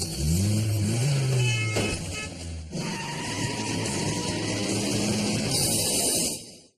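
A car pulls away after its brake is dropped, its engine rising in pitch and revving up, loud and close inside the cabin, with a steady road rush following.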